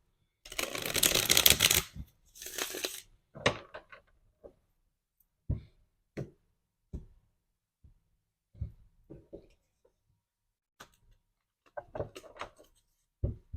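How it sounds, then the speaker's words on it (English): A deck of tarot cards is riffled in a couple of quick bursts, followed by scattered soft taps and slides of cards being handled and laid down. "I'm going to give it one more shuffle."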